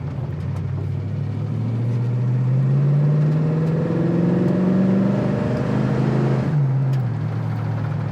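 A 1973 Ford Mustang Fastback engine hums steadily, its pitch climbing as it accelerates, then drops abruptly with a gear shift before settling again; close and loud.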